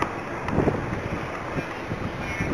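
Wind rushing past during a paragliding flight, a loud steady buffeting roar across the microphone with gusty swells, continuous and close with no voices.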